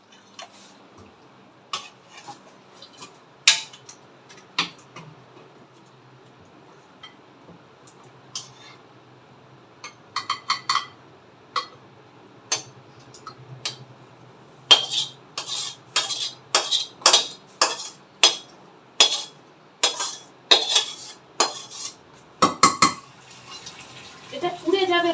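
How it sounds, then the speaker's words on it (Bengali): Cooked mutton scraped from an oily wok into a pressure cooker in a home kitchen: scattered metallic clinks and scrapes, sparse at first, then a dense run of sharp ladle-on-metal knocks, with a voice talking faintly. "এবার মাটনটাকে চলো ঢেলে দিই প্রেশার কুকারে।"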